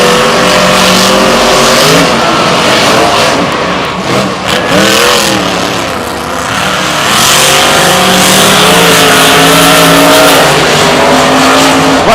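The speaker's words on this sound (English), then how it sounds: "It's Adam Anderson and Gravedigger taking on Stone Crusher" Monster Jam monster trucks, among them Grave Digger and Stone Crusher, racing in an arena in Tampa in 2016: loud roaring, revving engines with rising and falling pitch and a constant wash of crowd and arena noise.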